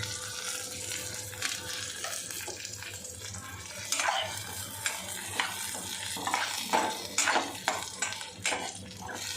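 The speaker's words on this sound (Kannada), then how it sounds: "ಹಸಿಮೆಣಸಿನ್ಕಾಯಿ ಜೋರಾಗಿ ಸಿಡೀತು." Green chilies spluttering loudly in hot oil while making a Karnataka-style okra gojju, a steady sizzle with sharp crackling bursts and occasional clinks of a pan, close and continuous.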